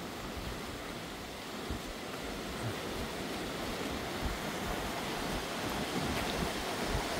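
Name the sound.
stream water flowing on mountain trail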